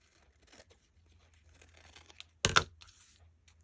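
Scissors cut through napkin paper for a Christmas craft project in one short, crisp snipping burst, close and clear against a quiet room background.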